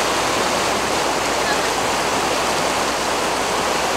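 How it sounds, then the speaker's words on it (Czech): A 380-metre waterfall in Yoho National Park, British Columbia, roars as a steady, loud, dense rush of falling water, unbroken for the whole stretch with no voices. "A tenhle vodopád je vysoký 380 metrů a je druhý nejvyšší v"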